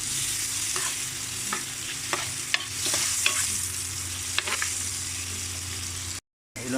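Onions sauté in a pan for a coconut-milk crab dish, with a steady sizzle and repeated clicks and scrapes of a utensil stirring, close and continuous, broken by one brief dropout.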